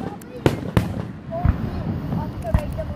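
Fireworks burst in several sharp bangs at irregular intervals, with whistling streaks between them, heard over the chatter and voices of people watching.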